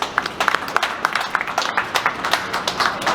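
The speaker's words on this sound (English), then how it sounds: "Can we all give Susan a round of applause" An audience gives a round of applause at a workplace presentation, dense irregular clapping sustained throughout at moderate loudness with no talk over it.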